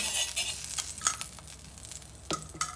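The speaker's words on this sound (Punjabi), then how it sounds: "ਇੱਧਰ ਆਪਾਂ ਤਵਾ ਰੱਖਿਆ ਹੋਇਆ ਆਪਣਾ ਥੋੜਾ ਜਿਹਾ ਤੇ ਘਿਓ ਲਾ ਦੇਵਾਂਗੇ" Ghee sizzling on a hot tawa griddle on a gas stove for paratha, a continuous crackling fry with sharper pops and scraping touches scattered through it, close and fairly quiet.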